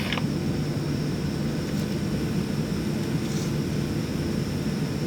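Airplane cabin during takeoff on a rainy early morning, a steady loud engine roar and broadband rush filling the whole stretch without talk.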